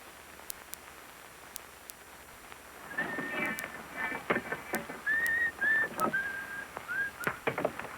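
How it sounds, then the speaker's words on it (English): Person whistling a short tune in a 1939 western film scene, a thin clear melody starting midway and running to the end over faint rustling and scattered clicks, fairly quiet and slightly distant. "Hey, cut out that whistling."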